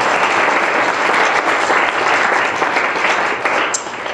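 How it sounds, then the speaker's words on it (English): An audience at a thank-you event applauds loudly and steadily, dense clapping close and sustained throughout, fading slightly at the end. "let's please give them a round of applause."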